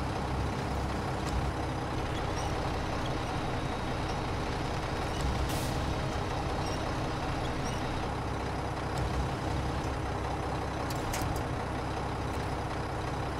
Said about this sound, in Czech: ještě že to mám auto s jeřábem